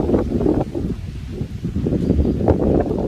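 Strong wind blows outdoors at a school, rumbling and buffeting against the microphone in loud, uneven gusts for the whole stretch.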